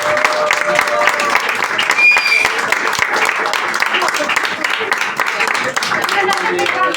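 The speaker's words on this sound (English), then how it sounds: "Another big round of applause for Andrew." Stand-up comedy show audience claps after a comedian finishes his set: close, lively applause with distinct individual claps and some voices mixed in, steady throughout.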